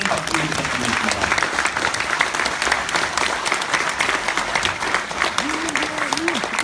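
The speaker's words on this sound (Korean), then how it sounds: "다시 한번 큰 박수 부탁드리겠습니다" Big round of applause after a keynote speech at a Korean security forum, dense steady clapping from a large audience throughout, with a host's voice talking over it in places.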